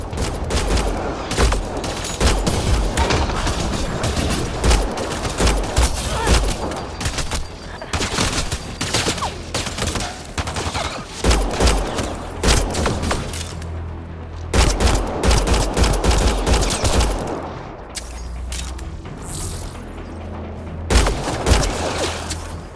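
Heavy gunfire in the sci-fi shooter Mass Effect: Andromeda, with sustained bursts of rapid shots and booms in a loud firefight, nearly continuous with brief lulls.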